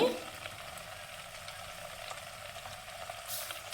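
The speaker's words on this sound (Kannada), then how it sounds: "ನೋಡಿ ಸೌಂಡ್ ಬರ್ತಾ ಇದೆ ತಳಕ್ಕೆ ನೀರು ಬಿತ್ತ ತಕ್ಷಣ ಸೌಂಡ್ ಆಗುತ್ತೆ" Water dropped into a pan of hot ghee sizzles steadily, a soft continuous frying crackle that holds at an even level throughout with a slight hiss swelling near the end.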